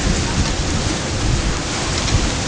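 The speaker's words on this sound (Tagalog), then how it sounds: "Wala, umulan na." Heavy rain pouring down, a loud dense continuous roar of drops close by with no break.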